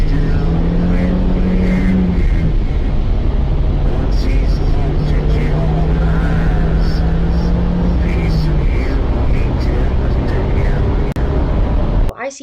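A car speeding away in the analog horror series Greylock, its engine a steady, loud drone with pitch sweeps that runs continuously from start to finish and cuts off abruptly at the very end.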